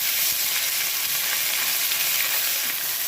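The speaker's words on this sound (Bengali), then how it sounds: "এর মধ্যে দিয়ে দেবো আদা বাটা লঙ্কা বাটা এটাকে আমি একটু কষিয়ে নেবো" Ginger paste and chili paste frying in a pan for a vegetarian paratha curry, giving a steady, even sizzle that holds at full strength without a break, with no one talking.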